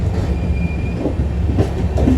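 A passenger train on the journey from Haldwani to Dehradun runs along rails beside a road, giving a loud, continuous, close rumble with rattling and a faint wheel squeal. No one speaks.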